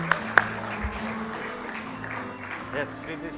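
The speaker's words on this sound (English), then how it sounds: "Let's give a big round of applause to the whole panel." Audience at an India Advantage summit applauds a panel, steady clapping from a crowd after a couple of sharp claps up front, moderately loud and continuous.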